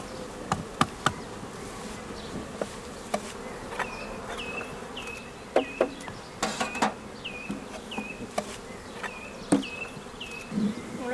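Honeybees buzz intermittently around a hive in quiet surroundings, several passing close by, with light knocks and clicks scattered throughout.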